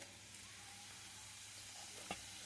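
Cumin seeds sizzle in hot oil for a ridge gourd curry, a faint, steady frying hiss with one brief crackle near the end.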